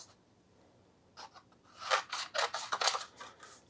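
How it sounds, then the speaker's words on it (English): Scissors cut paper while trimming a small die-cut craft coffin shape, giving a burst of close, crisp snipping and rustling strokes after a quiet start. "So I am going to grab some scissors."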